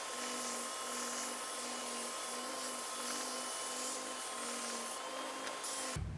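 A threaded rod is cut down to 15 cm for homemade bench dog clamps, giving a steady, close, high whining cutting noise that runs unbroken for about six seconds and then stops abruptly. No one speaks.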